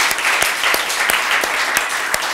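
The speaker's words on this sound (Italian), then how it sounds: "Sei la nostra donna avventura, grande, un applauso a Sabrina." Audience applause for a woman honoured at a club event, a dense steady wash of clapping with a few sharper individual claps standing out, filling the room at even loudness throughout.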